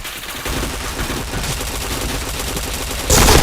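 Dense gunfire rattles in a shooter video game, rapid automatic bursts running continuously with a sharper, louder blast near the end.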